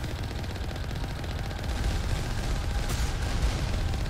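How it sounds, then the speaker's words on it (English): Turrets in the video game Mass Effect Legendary Edition fire a dense, continuous rattle of rapid shots that grows slightly louder over a few seconds, with no talking. "there's a bunch of fucking turrets over there"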